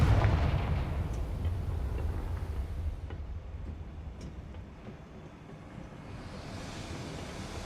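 Confringo fire spell in Hogwarts Legacy going off as a deep, rumbling blast that rolls out loudly at first and then fades into a long, low decaying roar, with no talking.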